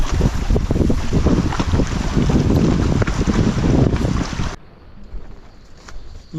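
Strong wind roars and buffets the microphone high on the tallest mountain near a village, a loud, rushing gust that drops suddenly to a quieter breeze for the last couple of seconds.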